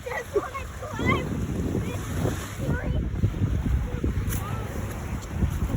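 Ocean waves crash loudly along the shore on a nature walk, a dense, continuous roar mixed with heavy wind buffeting close to the microphone, while voices sound faintly underneath.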